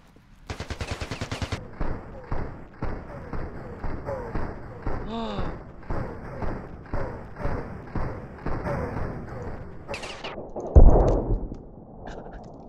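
Gunfire in the video game Ravenfield, rapid automatic bursts followed by a steady rhythm of single shots, loud and close, ending with a heavier impact; a player speaks briefly over it.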